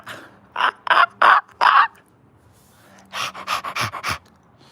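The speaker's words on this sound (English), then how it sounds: "Pant like a dog. Pump your belly." A person pants like a dog as a breathing exercise during a workout, two bursts of rapid, loud, rhythmic breathy puffs, four then about six in quick succession, separated by a short pause.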